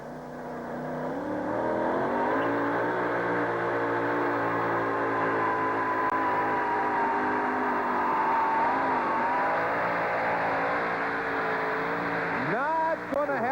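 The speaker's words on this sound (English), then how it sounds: "Did not have a real good sound to that engine as it came up the track." Two-wheel-drive pulling tractor's engine running up the pull track, a loud sustained roar holding steady for about twelve seconds before a brief rev and drop at the end, with some faint voices underneath.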